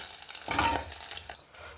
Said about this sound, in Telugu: ఎగ్ రోస్ట్ చేస్తున్నాను